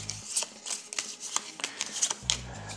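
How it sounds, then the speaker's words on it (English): Trait cards from the Assault on Doomrock board game are shuffled by hand, giving a run of close, crisp riffling and snapping bursts, with brief low voice murmurs at the start and end. "So let's shuffle these as well."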